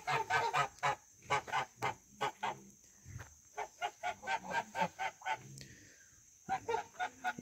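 A male goose guarding a nest entrance honks loudly and close in quick repeated bursts, pausing briefly before starting a new run of harsh calls. No one speaks.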